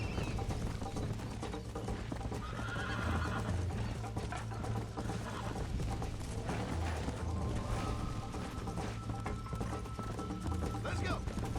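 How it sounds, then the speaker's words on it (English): Horse galloping in the video game Red Dead Redemption, a steady drumming of hooves and tack with occasional whinnies, heard loud and continuous beneath game music and ambience. "Tu caballo corre más en caminos y senderos."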